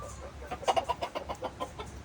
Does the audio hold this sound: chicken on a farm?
yes